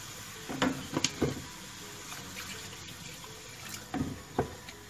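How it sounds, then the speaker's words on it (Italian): White wine and a little water splashed into a cooking pan holding tuna heart and curry, a few soft pouring splashes in two brief clusters over quiet background noise, with no talking. "e un pochino di acqua"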